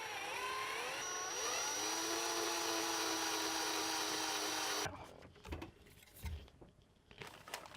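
A power drill whirs steadily at close range while working on a vehicle dashboard, its motor pitch rising then holding for several seconds before cutting off, followed by light clicks and handling sounds.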